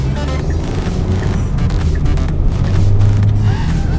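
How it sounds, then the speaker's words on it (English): A 2021 Kia K5 in sport mode accelerates from inside the cabin, a steady, fairly loud engine hum with a rising low drone and no talking. "I'm in sport right now, so I'm gonna step on the gas a little, just so you can hear that engine."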